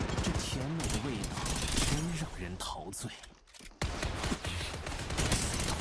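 An R99 submachine gun in Apex Legends fires in fast, rattling full-auto bursts, loud and close, breaking off briefly midway before resuming, with a voice talking over the shooting.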